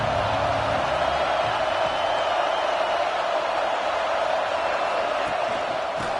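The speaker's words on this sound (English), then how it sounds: "This crowd bringing the energy and noise early." Stadium crowd at a Clemson versus Georgia college football game, a steady dense roar of many voices filling the air without pause, loud and continuous with no distinct single voices standing out.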